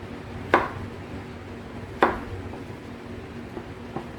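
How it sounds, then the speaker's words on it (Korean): A kitchen knife cuts shiitake mushrooms into large half-square chunks for Andong braised chicken, with two sharp chops on a board close by and a few fainter taps after. "이렇게 해서 반 사각으로 큼직하게 썰어 주겠습니다"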